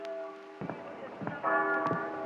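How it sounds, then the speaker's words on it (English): Church bells ringing above a city street, several overlapping tolls with sustained ringing tones, moderately loud and mixed with other sounds. "The bells rang above him"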